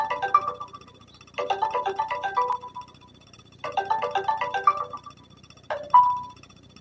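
A phone rings with a repeating electronic ringtone, close and clear, playing a melodic burst pattern several times with short pauses between.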